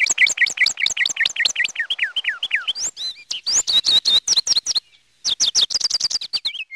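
Birds sing close by in rapid, repeated chirping phrases of sweeping whistled notes, loud and busy, with a brief pause near the end and no voices.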